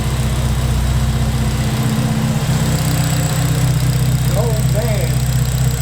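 Car engine with a Kraftwerks Rotrex supercharger idling steadily, a loud close low hum with a faint whine on top, while someone talks over it.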